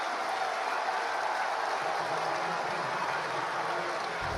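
Arena crowd at an NCAA tournament basketball game between Florida State and Xavier, a steady dense roar of cheering and applause sustained throughout, loud and continuous with no break.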